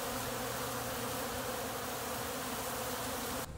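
Honeybees at a winter-fed hive fill the air with a dense, steady buzz, close and continuous throughout, cutting off sharply at the end.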